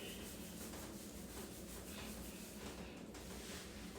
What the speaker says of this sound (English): And then you keep scrubbing your scalp.